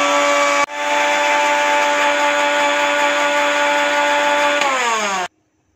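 A mixer grinder blends coriander and mint into a chutney paste, starting abruptly with a loud, steady high-pitched motor whine that runs for several seconds, then winds down and cuts off.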